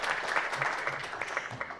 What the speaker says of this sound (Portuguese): Palmas para a professora Andréa Paiva.